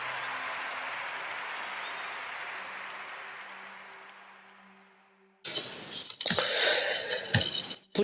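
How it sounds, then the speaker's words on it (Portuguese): Applause sound effect on a radio podcast, a dense clapping wash that fades out slowly, followed by louder, closer bursts of crackly noise near the end. "Merece outra salva de palmas, não merece?"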